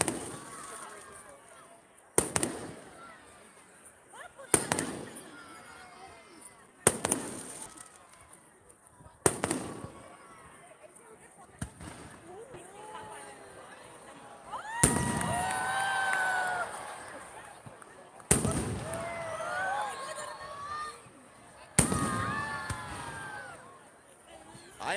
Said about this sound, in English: I am hanging out right now watching fireworks, watching them for all of you.